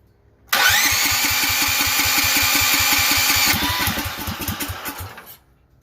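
A DuroMax 440cc generator engine on electric start with quarter choke cranks in a rapid, even chugging rhythm for about five seconds, loud and close, then winds down without catching.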